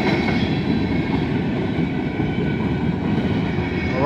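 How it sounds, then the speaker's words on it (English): A Norfolk Southern mixed manifest freight train, NS 196 led by locomotive NS 4387, passes on the northbound main track at Fairfield, Ohio. Loud, close, continuous rumble and rolling clatter of railcars, with no voices. "Norfolk Southern, mixed manifest freight train northbound track"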